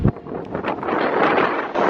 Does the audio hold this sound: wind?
yes